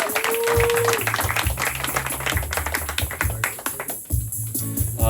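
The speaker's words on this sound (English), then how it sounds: "Let's have a round of applause for Jeff." A small audience claps for a man named Jeff at a bookshop event, uneven close handclaps with a low thumping rhythm underneath and a brief tonal sound near the start.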